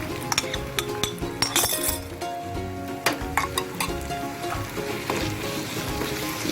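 Ground chicken keema frying over high heat for a dhaba-style dish, with a steady background sizzle and frequent sharp clinks of a utensil against the pan, close and fairly loud.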